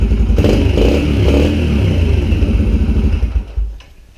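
Yamaha TTR 125 dirt bike engine idling steadily after a one-kick cold start, a close, loud single-cylinder putter with a few revs before it dies away.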